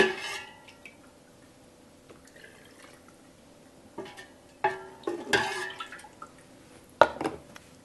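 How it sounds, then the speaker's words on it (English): Homemade chicken broth is poured into glass jars, with splashes and trickles of liquid, clinks of glass and ladle, and drips coming in irregular bursts, louder toward the end, with no talk. "I've added 2 cups of the broth into each jar"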